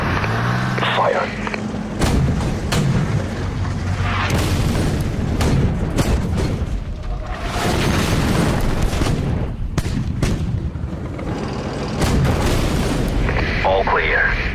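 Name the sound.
artillery fire and explosions in Armored Warfare video game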